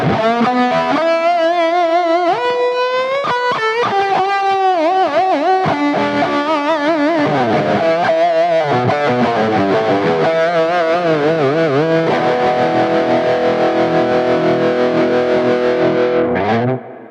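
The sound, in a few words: grunge electric guitar with tremolo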